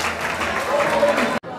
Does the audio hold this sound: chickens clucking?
no